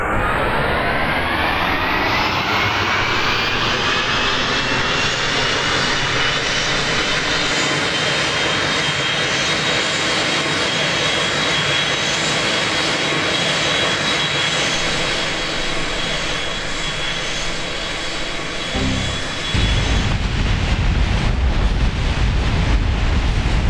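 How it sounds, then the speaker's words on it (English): An aircraft engine roaring at full throttle during takeoff in Kerbal Space Program, a loud continuous drone with a rising whine that holds steady throughout, briefly dipping before surging again near the end. "Let's get to full throttle first, then take off."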